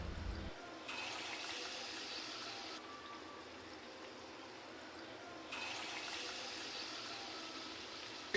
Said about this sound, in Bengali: বেশ লাল লাল করে এরকম করে ভেজে নিতে হবে